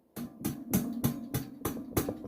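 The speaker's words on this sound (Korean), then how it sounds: "알루미늄 휠의 소리를 한번 들어볼까요?" An aluminum bicycle wheel spins, making a quick, regular series of whooshing ticks, about three per second, close by.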